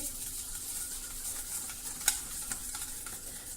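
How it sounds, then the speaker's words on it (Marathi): Curd being whisked in a bowl with sugar and salt for dahi poha, a steady soft stirring and beating with a few sharper clicks of the whisk against the bowl, alone and close. "आता आपल्याला हे छान फेटून घ्यायचं आहे"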